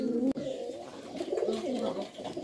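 Bombay pigeons, large purebred birds offered at a fancy pigeon sale, coo in a steady, throaty, rolling rhythm, close and clear with a brief sharp knock early on and no talking.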